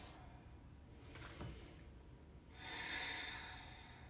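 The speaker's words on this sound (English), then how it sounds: "Let's take 3 more breaths." Slow, deep breaths go in and out through the nose during a yoga practice, with a soft airy inhale and a longer exhale, faint and close.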